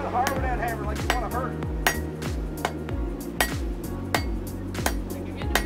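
A hammer strikes hot metal at a forge in steady, ringing blows, each one a sharp metallic clang, close and loud.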